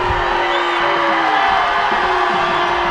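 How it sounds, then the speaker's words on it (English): A high school football crowd at Bulldog Stadium roars in a dense, steady wash of cheering and booing, with scattered whoops rising out of the noise throughout. "Bulldog fans are booing, Pottsboro fans are cheering."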